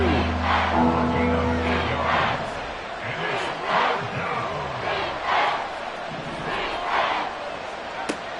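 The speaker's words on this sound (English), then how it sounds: "And this crowd into it now." A stadium crowd roaring and cheering in a Madden football video game, a dense, continuous swell of many voices with a commentator talking over it.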